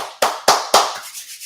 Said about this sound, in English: So that's a light clap for them